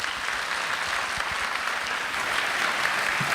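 A church congregation at a New Year's early-morning prayer service applauds to welcome a guest preacher, with steady, dense clapping filling the room for the whole stretch.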